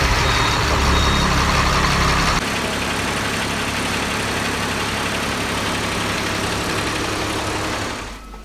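A transit mixer truck's diesel engine idles steadily after servicing with fresh fuel and oil filters, a close, continuous low rumble with a slight change in tone partway through, no voices.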